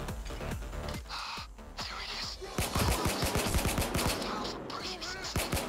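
Dense gunfire in the heist video game Payday 2, with rapid automatic bursts and single shots crowding together, getting louder and more continuous partway through.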